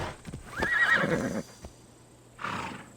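A horse in Assassin's Creed Odyssey gives a loud, close whinny, followed by a short snort and a few hoof clops. The sounds come clearly and alone, with no talk.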